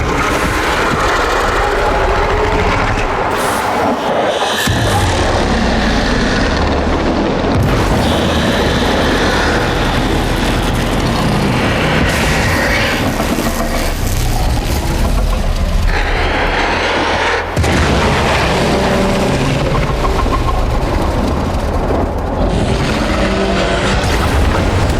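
Loud, dense explosion and combat noise in the video game Warframe, a sustained roar of blasts and crashing debris with shifting rumbles and booms that never let up, with no talk.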